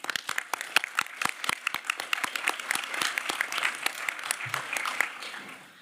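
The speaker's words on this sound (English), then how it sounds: "Please join me in giving the parties a round of applause on the FMCP." Applause from delegates at a formal conference session, starting as a few sharp, separate claps that quickly build into a steady patter of many hands, then trail off at the end, with faint voices underneath.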